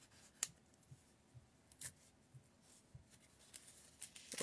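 Scissors cut a paper pull tab for a handmade card with quiet, crisp snips spaced irregularly, faint and close, with no talking.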